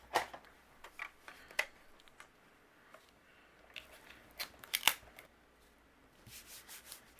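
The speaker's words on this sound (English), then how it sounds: "Let's go ahead and use our tape runner." A tape runner lays adhesive on a handmade tulip card, giving quiet scattered clicks and short rubbing strokes, one sharper snap near the middle and a few soft scraping passes toward the end, close and faint.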